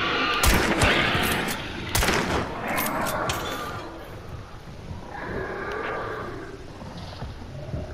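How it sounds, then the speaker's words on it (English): Bursts of rapid gunfire from the video game Hunt: Showdown crack close by, dense volleys at first, then thinning into scattered distant shots over a steady background rumble. "I don't like hearing all the gunfire. So damn close."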